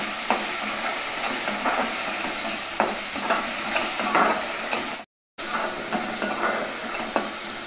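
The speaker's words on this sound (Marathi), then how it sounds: "तर टोमॅटो, बटाटा, मिरची छान मस्त तेलावर तळलेले आहेत" Tomato, potato and chili sizzle steadily in hot oil for a simple khichdi, with soft stirring scrapes and a brief silent gap partway through, no voices over the frying.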